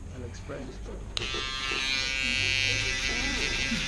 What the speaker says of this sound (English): And then I'll come in with my shaver.